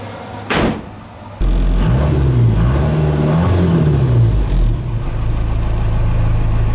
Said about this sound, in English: Revs up so much smoother.